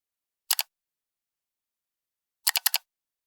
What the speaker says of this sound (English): Click.